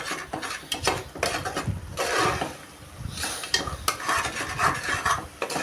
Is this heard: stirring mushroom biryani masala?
yes